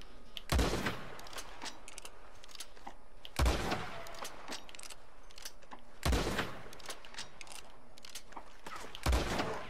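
Gunfire in Red Dead Online PvP play: four distant booming shots spaced a few seconds apart, each with a rolling echo, over a steady low ambient background.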